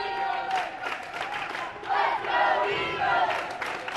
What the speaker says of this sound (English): And the Collins Hill crowd is trying to get behind their team here.